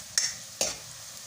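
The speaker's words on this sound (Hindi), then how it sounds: "आप देख सकते हैं ये सारे प्याज बिल्कुल ऐसा ऐसा ब्राउन हो रहे हैं।" Onions frying and browning in a pot, two short scraping stirs over a soft steady sizzle, close and fairly quiet.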